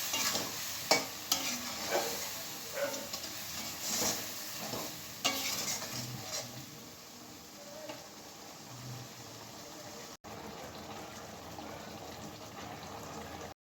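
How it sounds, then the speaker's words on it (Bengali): Spice paste of chilli, coriander and cumin powders frying in a pan, with repeated scraping stir strokes over a soft steady sizzle, up close and without talk. "এবার মশলাটা আমি খুব ভালো করে কষিয়ে নেব।"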